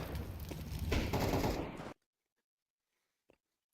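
Rapid gunfire from a competitive shooter video game match, a dense burst of shots for about two seconds, then near silence with a couple of faint clicks.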